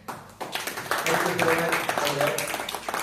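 An audience at a Psychology of Money book session bursts into dense, steady clapping that builds after a brief pause and carries on for a couple of seconds, with a voice talking over it.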